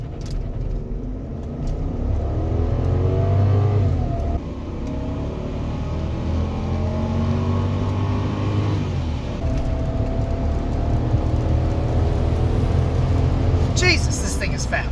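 A Lexus LS400 sedan accelerating hard, its engine rumbling loud and close as the pitch climbs steadily through long pulls, with someone talking over it.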